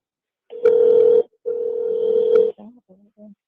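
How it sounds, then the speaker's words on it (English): A telephone ringing tone on a call made from a jail phone, two long steady tone bursts followed by a few short fainter tones, clear and close with no talking. "I can hear it ringing double."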